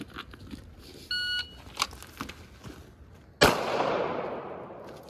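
A single sharp gunshot cracks at an outdoor shooting range, loud and close, followed by a long fading echo, after a brief electronic beep and a few small clicks.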